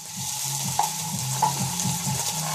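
Steady, bright sizzling of scallops and salmon frying in a hot pan, with a couple of light utensil taps and scrapes on top, close up.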